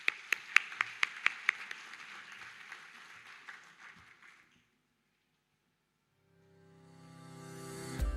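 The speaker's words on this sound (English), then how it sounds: "A round of applause, please" Scattered applause at a graduation ceremony, a handful of sharp claps up close over a thinning patter that fades to silence midway, then a rising tonal hum comes in toward the end.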